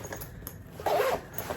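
A quick zip on a small interior pouch of a North Face Borealis backpack, one short rasping pull close by, set against faint rustling handling noise.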